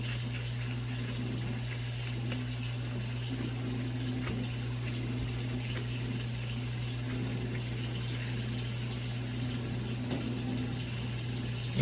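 Steady water running from a faucet while hands are washed, a continuous moderate wash of flow with a low pump-like hum beneath it, no talking.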